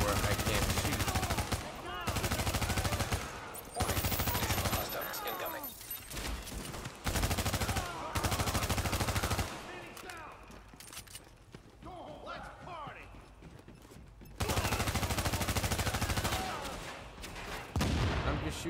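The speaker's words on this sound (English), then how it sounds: "I'm just shooting paint buckets" Gunfire in the video game The Division as paint buckets are shot: loud, rapid automatic bursts in repeated blocks separated by short pauses, with someone talking over and between the shots.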